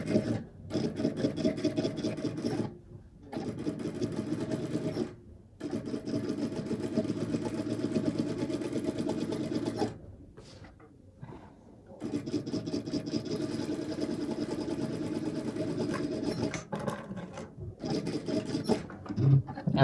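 A sewing machine runs double top stitching on cargo shorts in bursts of steady rapid needle chatter, stopping briefly several times between runs, close and clear with no talking.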